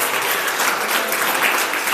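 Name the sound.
audience applause for the teachers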